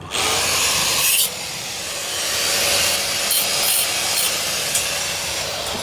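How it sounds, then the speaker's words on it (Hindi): A power tool cuts through metal sheet for a waste-oil burner stove, giving a loud, continuous harsh grinding rasp that briefly dips before resuming steadily, with no talk. "अब इसको लगा दिया निशान, कटिंग चालू"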